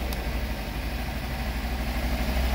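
A Kawasaki Versys-X 300 Tourer motorcycle idles while warming up, its engine putting out a close, steady, low rumble with a faint regular pulse and no talking.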